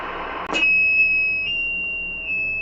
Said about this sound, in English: That's got the Roger beep on there